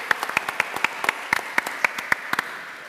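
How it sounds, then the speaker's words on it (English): Conference audience applause with a few distinct, sharp claps standing out over a softer background of clapping, fairly close. "round of applause, sorry."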